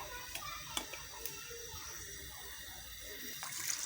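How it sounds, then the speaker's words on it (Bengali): Water poured into a small cooking pot for traditional Cumilla-style nihari (paya), a quiet, steady trickle with a few soft clicks and taps, close but faint. "দেওয়া হচ্ছে পানি।"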